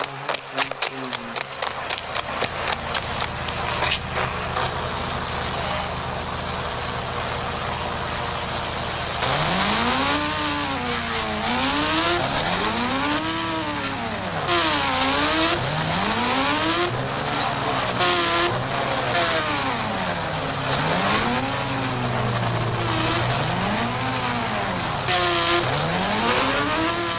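A Yamaha motorbike engine drones steadily, then a series of loud, repeated revving swells rise and fall in a rhythmic pattern, close and prominent.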